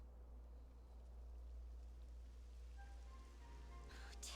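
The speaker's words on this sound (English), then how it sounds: "It would have to go and start raining, wouldn't it?" Rain begins falling in the video game Dragon Quest 11, a steady, soft hiss of rainfall that builds and thickens toward the end, with faint tonal game sounds joining in.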